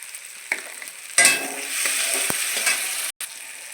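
Chopped tomato with turmeric and salt sizzles in a hot pan for a shrimp curry while a spoon stirs it, scraping and clinking softly over steady frying crackle, no voices.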